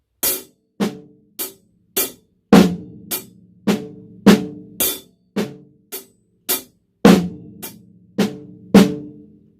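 Drum kit plays a paradiddle with the right hand crossed over to the hi-hat, sharp evenly spaced hits with louder accented strokes ringing out, close and solo without talk.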